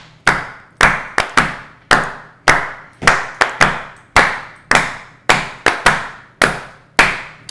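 Hands clap out the basic Lindy Hop swing rhythm: loud, crisp single and doubled claps in a repeating syncopated pattern, close by, each ringing briefly in a reverberant room.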